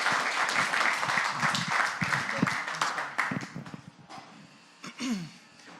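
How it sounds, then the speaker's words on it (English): A marketing-event audience applauds as the first speaker is welcomed, dense clapping for about three seconds that thins out and fades, with some brief voice-like sounds near the end. "let's give a round of applause for our first speaker"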